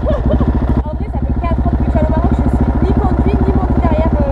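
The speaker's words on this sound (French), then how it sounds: "Attention, on va partir en wheeling. J'ai fait une petite accélère, ça va." A motorbike revs hard as the rider pulls a wheelie in a tunnel, its loud, close engine roar climbing steadily in pitch and filling the whole stretch with a dense, buzzing drone.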